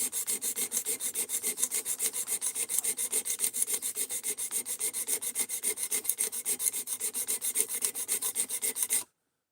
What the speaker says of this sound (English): I'm trying to get the hang of taking care of this transition right here on a Tonto with this sharpening system